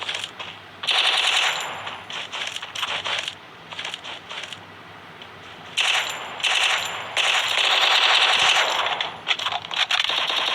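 Bursts of automatic gunfire from a shooting video game, with rapid clattering volleys starting and stopping repeatedly, loud and dense, with no voice over them.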